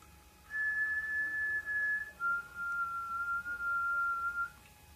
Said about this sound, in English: Maybe copy this little whistle.